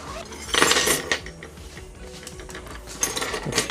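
A bike toolkit with Allen keys and a reversible screwdriver is handled close by, giving scattered metallic clinks, rattles and plastic clatter, loudest near the start and again toward the end.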